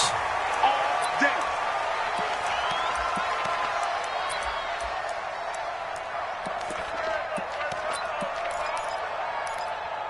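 Stadium crowd at a Jacksonville Jaguars versus Chicago Bears football game, a dense, steady roar of many voices filling the space with a couple of brief louder shouts near the start.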